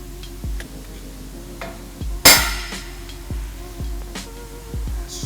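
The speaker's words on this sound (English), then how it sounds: "go ahead and hit it with the hammer. Just give it a little tap." A hammer taps a steel pipe spool into place for fitting before welding: a series of light, evenly spaced ticks, then one sharp, louder strike partway through.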